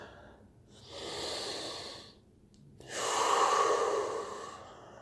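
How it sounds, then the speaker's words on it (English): Slow, deep Ujjayi breaths for a yoga Sun Salutation, close and alone: a long steady inhale, a brief pause, then a louder rushing exhale with a hissing throat sound. "Just firing up my Ujjayi breathing."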